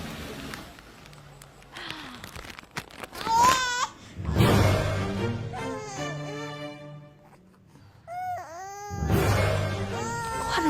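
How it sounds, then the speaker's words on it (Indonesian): A baby cries in repeated wailing bursts with whimpers and breathy gasps between them, loud and close, in a street scene from an Indonesian TV drama. "Kok ada suara bayi sih di tengah jalan kayak gini?"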